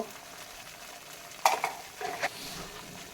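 Egg curry masala with cashew nuts stirred in a pan: a soft low sizzle, then a sharp scrape of the spatula against the pan and a second shorter stroke, no speech.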